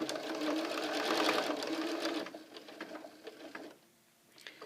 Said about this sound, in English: Now I am actually going to sew right through to the edge.